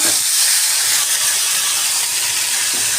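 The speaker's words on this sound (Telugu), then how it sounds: "నెక్స్ట్ కరివేపాకు వేద్దాము." Curry leaves dropped into a hot pan with cinnamon-spiced oil for masala paneer, giving a loud, steady, close-up sizzling hiss that continues without a break.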